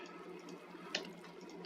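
Water poured from a bucket in the video game Minecraft, a faint, soft splashing wash with two brief brighter splashes, alone without talk.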